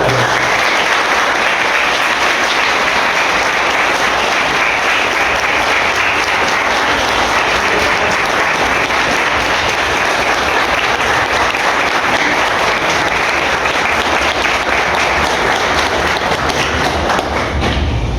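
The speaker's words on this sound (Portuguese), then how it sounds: "Por favor, junte-se a mim para aplaudir Maria do Carmo Ferrão Santos" A crowd at a book launch for "Tamandaré, a tua história para sempre viverá" gives loud, sustained applause that stays strong and even for a long stretch, with some heavier thumping claps mixed in.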